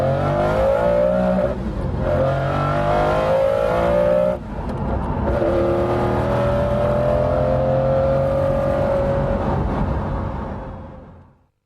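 A McLaren F1 road car's engine roars loud and close, holding a steady high drone with rising revs, a brief dip near the middle, then pulling strongly again before fading out at the end.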